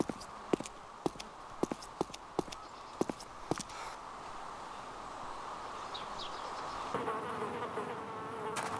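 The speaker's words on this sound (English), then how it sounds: "their body leaves the sound of buzzing flies" Flies buzz around a dead player's body in the survival game DayZ, a continuous insect drone under a series of sharp clicks and taps early on, then a steadier hum, with no talking.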